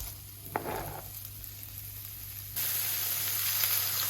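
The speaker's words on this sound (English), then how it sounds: "You can hear a little bit of a sizzle." Meatballs searing in a moderately hot pan give off a steady, gentle sizzle, close up and fairly quiet, with a brief crackle near the start and a slightly louder hiss later on.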